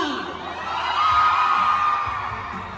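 Fans at a mall show in SM Consolacion cheer, whoop and shout in a steady crowd roar, with no single voice standing out.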